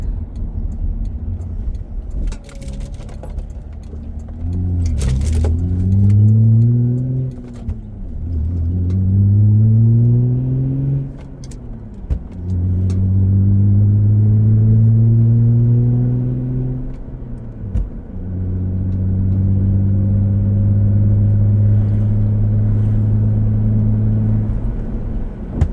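A V6 Toyota Camry with a five-speed manual accelerates hard from first to fifth gear, the engine droning up in pitch through each gear with brief dips at the shifts, heard close from inside the cabin.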